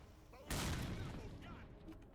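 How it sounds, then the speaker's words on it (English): Grenade blast in Final Fantasy XIV, a sudden loud broadband burst that decays into a lingering rumble, set over a low game background and faint chatter. "stop throwing grenades at me"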